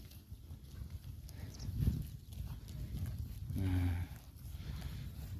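Lambs and sheep kept by a herder call out at a pasture, with a couple of short bleats standing out over steady low rumbling and rustling background noise.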